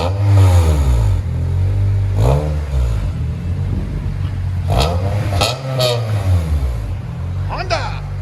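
A 2005 Honda Civic Si EP3 with an eBay cat-back exhaust drones loud and close, rising in several hard revs and falling back between them, with voices talking over the engine.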